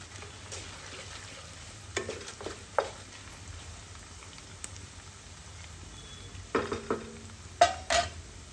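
Dried red chillies frying in peanut oil are stirred in a pan, giving a quiet steady sizzle with scattered scraping clicks and a few louder clatters of the spoon toward the end.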